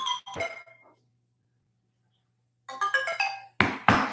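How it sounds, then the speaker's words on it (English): A telephone plays a melodic ringtone in short bursts, clear and close, broken by a long silent pause before more tones and sharp noises at the end. "Phone ringing."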